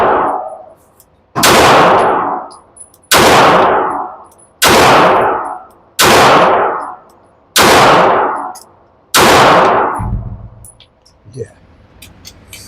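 Six loud pistol shots fired at steel targets, each a sharp crack followed by a long metallic ring that fades, spaced roughly a second and a half apart, then a few faint clinks.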